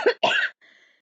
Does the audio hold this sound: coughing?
yes